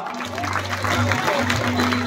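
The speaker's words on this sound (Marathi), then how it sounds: "त्यासाठी जोरदार टाळ्या." Audience clapping at a school prize distribution ceremony for a student's certificate, a steady, fairly loud patter of applause from a crowd, mixed with low hum and some voices.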